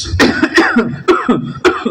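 A man coughs loudly and close, five or six short harsh bursts in a quick uneven series, with no talking in between.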